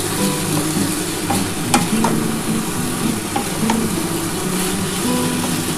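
Cashews, almonds and poppy seeds roasting in a wok for a rich vegetarian mixed-veg dish, a steady close sizzle broken by scraping stirs and occasional sharp clinks of the spatula against the pan.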